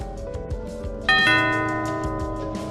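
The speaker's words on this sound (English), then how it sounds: "I heard the front doorbell ring" A single bell-like front doorbell chime rings out and slowly fades, over a steady murmur of background sound.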